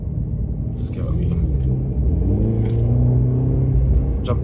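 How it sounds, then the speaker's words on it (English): A Mercedes-Benz E300 Coupe AMG Line four-cylinder engine rising in revs under acceleration, a loud low rumble heard from inside the car and climbing steadily, with faint pops and a voice speaking over it. "You do hear the 4-cylinder popping, but it's quite good fun to drive"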